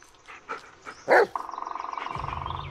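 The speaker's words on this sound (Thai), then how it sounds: "ฟังเสียงเขาเห่าแล้วก็พยายามดูภาษากายของมันนะครับ" A dog in the Blair Witch video game gives a few sharp barks in a forest setting, followed by a rapid rhythmic panting or growling sound.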